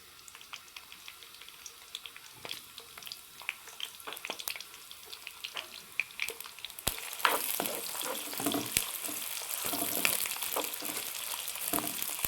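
Onions, 200 grams, dropped into hot oil for a beef tongue salan, giving a steady close sizzle with scattered crackles that swells into a louder, denser frying hiss partway through.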